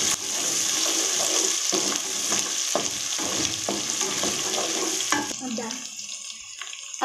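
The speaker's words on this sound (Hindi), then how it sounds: "अब हम इसमें अदरक लहसुन डाल देंगे। अदरक लहसुन को भी इसमें भून लेंगे।" Ginger and garlic fry with browned onions in a pan, a steady close sizzle broken by stirring scrapes and clinks, quieting toward the end.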